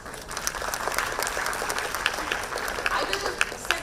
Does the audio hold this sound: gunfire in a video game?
no